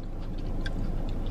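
Crispy Korean fried cheese is bitten and chewed up close, with a few sharp crunches standing out over a steady wet chewing texture.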